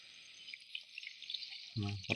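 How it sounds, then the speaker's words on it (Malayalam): Plain water trickles into a pan of fish curry as a faint, continuous pour, ending with a brief low clunk and splash. "ഇനി നമുക്ക് സാധാ വെള്ളം കൂടി വെച്ച് കൊടുക്കാം"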